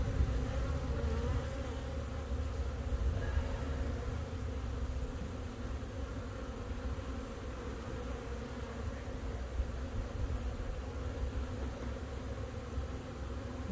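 Honeybees from a defensive, mean-tempered hive buzz steadily during a March hive inspection, a dense continuous drone of many insects up close with no talking.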